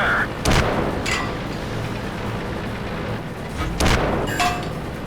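Two heavy booming tank cannon shots in the video game World of Tanks, a few seconds apart, each a loud blast with a rumbling tail over steady background noise.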